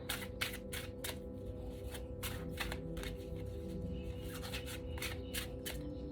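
An oracle card deck is shuffled close up in a quick, rhythmic riffle, with repeated crisp card slaps over a low background hum.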